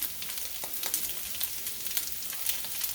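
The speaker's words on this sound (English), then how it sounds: "I'm going to throw in my onions" Chopped onions hit a hot pan beside fried rice in a turmeric fried rice with ham dish, giving a steady crackling sizzle with small pops, fairly close and quiet, with no talk.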